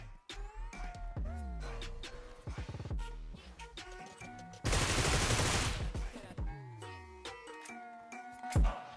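Bursts of gunfire in the battle royale game BGMI crack out in sharp volleys, including one long dense spray in the middle, close and loud with quieter pauses between.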